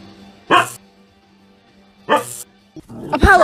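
A dog gives two sharp, close barks about a second and a half apart, followed by a brief higher yelp at the end, over an otherwise quiet background.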